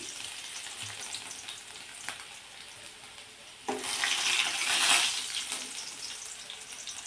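Minced garlic, added after mustard seeds and cumin, frying in hot oil for a drumstick dal tempering, a steady sizzle that swells louder midway and stays close, with no talk.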